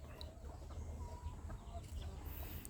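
Low, faint clucking from a Burmese gamecock, a yearling rooster weighing around 3 kg that leads the garden flock, sounds intermittently against a quiet humming backdrop.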